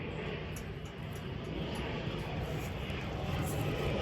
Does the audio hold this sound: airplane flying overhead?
yes